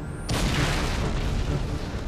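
A grenade blast in the video game Halo 3 lands as a sudden loud boom followed by a long rumbling decay filling the rest of the moment, with no talk over it.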